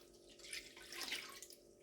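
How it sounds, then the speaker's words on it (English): Warm water pouring into a mixing bowl of dry active yeast for pizza dough, a short, close, bubbling splash that swells and fades over about two seconds. "Then we're going to put 375 millilitres of warm water."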